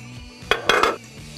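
Stuffed eggplant filling of sausage meat being mixed in a pan, giving a few short clinks and scrapes of utensil on cookware, close and moderately loud, with a quiet kitchen background between them.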